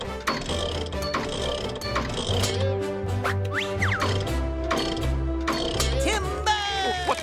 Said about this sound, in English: First, I'll unbolt it.